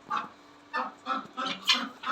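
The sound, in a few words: guinea fowl and ducks in garden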